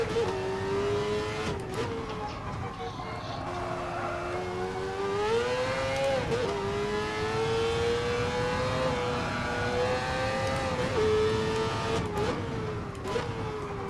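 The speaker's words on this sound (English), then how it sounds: "Car sounds alright." A racing car engine in the video game GT Sport drones and revs steadily, its pitch rising and falling with gear shifts, loud and close with no talking.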